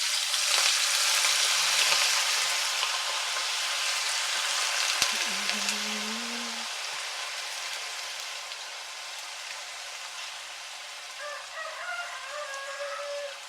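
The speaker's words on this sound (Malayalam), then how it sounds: "അപ്പോൾ നമ്മുടെ വെളിച്ചെണ്ണ നന്നായിട്ട് ചൂടായി വന്നിട്ടുണ്ട്. ഇനി നമുക്ക് ബീഫ് ഇതിലേക്ക് ഇട്ട് കൊടുക്കാം" Beef hits hot coconut oil with a loud, steady sizzle that slowly softens, while a rooster crows faintly in the background near the end.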